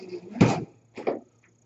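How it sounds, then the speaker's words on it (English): A door opening nearby with two short knocks or clunks about half a second apart, fairly loud and close, followed by a faint tap in otherwise quiet surroundings. "You want me to hold the door open, you throw it out?"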